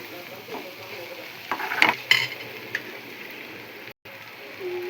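Grated coconut is stirred into cluster beans frying in a pan, giving a soft sizzle under several scraping stir strokes that peak in the middle, plus a brief dropout near the end.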